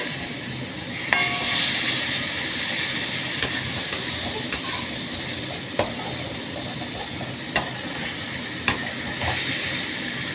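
Mixed vegetables for a winter navratan korma stirred with spices in a frying pan over a raised gas flame: a continuous close sizzle with periodic sharp clinks and scrapes of the spoon against the pan, no talking.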